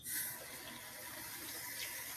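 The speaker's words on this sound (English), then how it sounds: "Drain as much of the water off as we can." Steady rushing, splashing water drained off rinsed rice for makgeolli brewing, like liquid poured off into a sink, continuous and close for the whole stretch.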